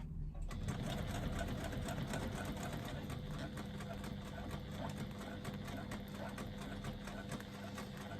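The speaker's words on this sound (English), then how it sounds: "I'm going to do my first line of stitching 1/4 inch away from the edge of my" A sewing machine stitches a line along the edge of a strap, running in a steady, continuous mechanical whir with rapid needle ticking throughout, close and fairly quiet.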